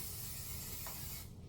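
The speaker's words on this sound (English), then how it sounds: "I spray my lid" A brief hiss of cooking spray misted onto a pot lid in a home kitchen, close and short, with a faint mechanical click near the end.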